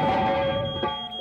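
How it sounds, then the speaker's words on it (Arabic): A cartoon fire alarm rings in a steady, tonal electronic blare, loud and close, sounding alone for a moment. "هذا صوت إنذار حريق"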